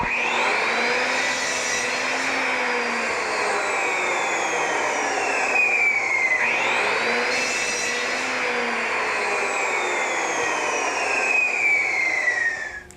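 Power saw cutting wood pieces to about 10 inches for a turned lamp, a loud steady whine with two spin-up and wind-down cycles, close and continuous without talk.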